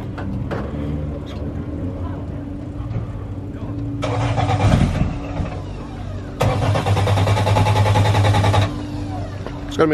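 In a racing depot at Falkenberg, a car engine cranks in two bursts, the second catching into a loud, steady idle, with a low mechanical hum underneath and people talking nearby.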